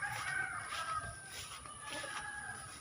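Young gamecock stags of a Hapon breed crow and cluck faintly at a distance, a few thin calls rising over quiet outdoor background.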